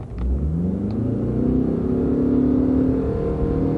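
A Ford pickup truck with a CVT transmission accelerates hard from a standstill toward 60 mph, its engine drone rising steadily and smoothly without gear shifts, loud and close throughout.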